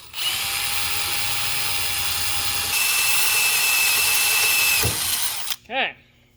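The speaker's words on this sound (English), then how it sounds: "And drill away." A power drill with a large bit bores a hole during a zero degree handlebar install on a 2022 Superjet, a loud steady whine running several seconds with a pitch shift partway, then spinning down to a stop.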